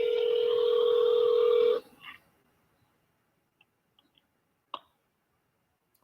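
Telephone line during a call to a sheriff's office: a steady electronic tone holds, then cuts off abruptly, followed by a few soft clicks and a sharp click of the line dropping, in near silence.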